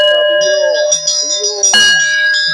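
A small bell rings repeatedly with bright, sustained metallic tones layered over one another, loud and close, while people talk in the background.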